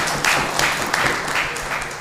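A short round of applause at a music festival press conference, several hands clapping close by in uneven bursts for about two seconds.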